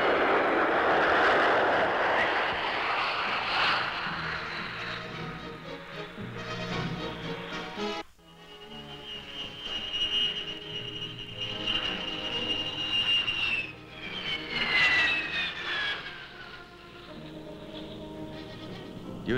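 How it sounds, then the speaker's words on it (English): F-100 jet fighters land at an air base in Iran amid blowing dust, with loud, sustained jet engine roar and rising and falling whines as the aircraft pass nearby. "The first combat elements to arrive in Iran were the F-100s, which landed at Vadati with routine precision"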